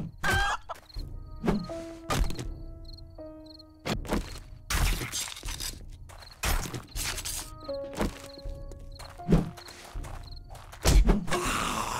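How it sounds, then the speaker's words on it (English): Chickens cluck in the survival game 7 Days to Die, short clucks repeating over several seconds amid scattered thumps, clatter and ambient game noise, with no talk. "Come here, chicken."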